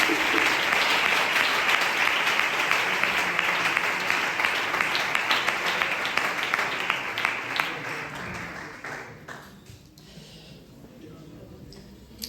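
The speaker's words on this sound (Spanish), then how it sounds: "Fuerte aplauso para Dios, iglesia." A church congregation applauds strongly during a service, dense continuous clapping that thins and fades out over the last few seconds, ending in near quiet.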